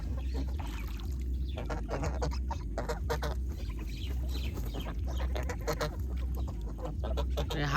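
Ducks and chickens in a Bangladeshi village yard keep up a steady stream of clucks and short calls, close by and continuous, with a low rumbling bed underneath and no talking.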